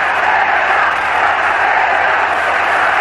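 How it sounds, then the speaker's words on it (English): A boxing arena crowd, mostly island natives, roars and chants steadily for their home champion, a dense unbroken wall of voices filling the space from start to finish. "This crowd, largely natives of the island, chanting for their champion."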